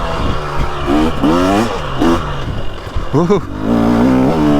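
A 2023 Husqvarna TX300 Heritage motorcycle engine revs in quick, rising bursts, loud and close, mixed with a voice talking and exclaiming over it.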